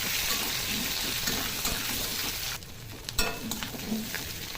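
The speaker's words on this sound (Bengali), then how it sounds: "আলুগুলোকে একটু ভেজে নেব।" Potatoes with onion and green chilli fry in a pan with a steady sizzle and occasional stirring scrapes, fairly close and continuous, no voices.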